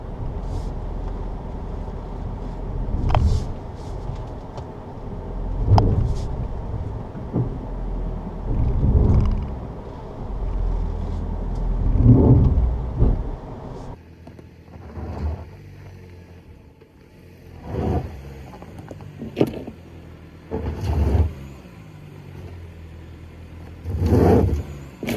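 A hybrid Ford Maverick on all-terrain tires crawls over rocky off-road ground in normal drive mode, its engine swelling in repeated rumbling surges every few seconds over a low drivetrain hum.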